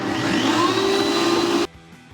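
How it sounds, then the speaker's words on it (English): Bandsaw running at high speed through wood, a loud steady whine and rasp close by that cuts off abruptly partway, leaving a quiet hum. "So that's the bandsaw set up to 31, cut. I'll put it on high speed because it's wood."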